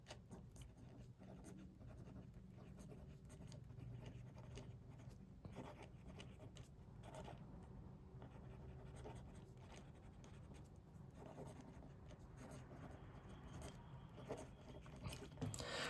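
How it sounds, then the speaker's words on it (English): Endless Phantom fountain pen with a stiff nib writing on paper, a faint, soft continuous scratching of steady strokes, close and quiet, with no talk. "It writes very smoothly, and it writes relatively wet."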